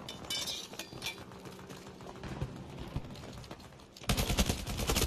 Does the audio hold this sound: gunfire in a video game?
yes